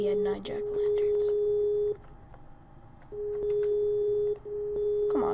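A phone ringback tone on an unanswered call in a Minecraft Skyblock session: a steady electronic tone that plays in long bursts, each about 1.5 seconds, with a gap between them. It is loud and close, with brief game noises and voices around it.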